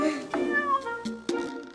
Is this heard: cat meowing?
yes